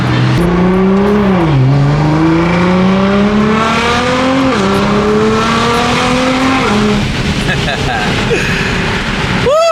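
Loud Nissan GT-R sports car engine driving, revving up through gears with rising pitch and brief drops between shifts, close and sustained.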